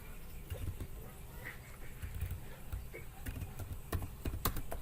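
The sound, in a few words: typing on a computer keyboard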